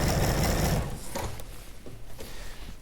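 Sewing machine stitching a flat fabric seam at steady speed, a dense continuous whir for the first second that then gives way to quieter intermittent mechanical clicks.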